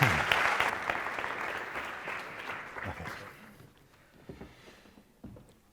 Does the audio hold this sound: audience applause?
yes